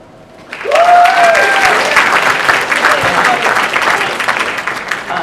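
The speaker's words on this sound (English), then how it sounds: "So tonight I give you one thought is give yourselves a round of applause" An audience at a pageant breaks into loud, sustained applause after a brief quiet start, with a whoop rising over the clapping crowd.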